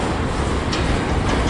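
A long CSX M200 eastbound freight train rolls past at Fostoria, Ohio, a loud, broadband rumble and roar of wheels on rails with faint rhythmic clatter, close and continuous.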